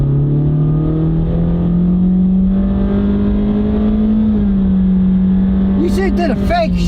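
A car with a CVT transmission accelerating hard down a drag strip, its engine drone rising steadily and loudly in pitch, then briefly dipping as if shifting, with some voice sounds near the end.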